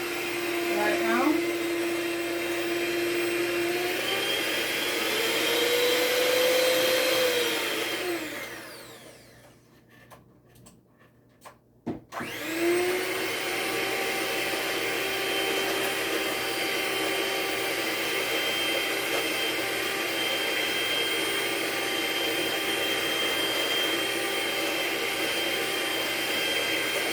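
Electric hand mixer creaming sugar and butter, a steady close motor whine running throughout, briefly cutting out and restarting midway.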